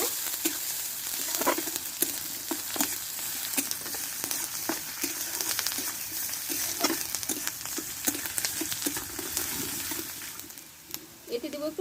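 Chopped onion, green chilli and grated ginger frying in a pan, a steady close sizzle with frequent scraping stir clicks throughout.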